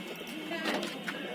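Pet pigeons coo in their coop, soft throaty repeated calls close by over a steady background hum.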